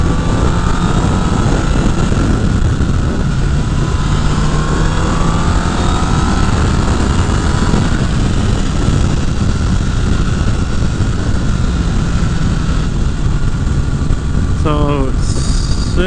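A Honda CBR 1000 Repsol sport bike cruises at steady speed in sixth gear, its engine a continuous drone buried under loud wind rush, with a brief rising rev or shift near the end.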